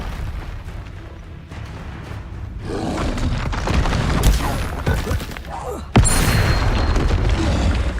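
Confringo fire-blast spell explosions in Hogwarts Legacy, with rising rumbling blasts and a sharp loud bang near the six-second mark, followed by sustained crackling fiery roar.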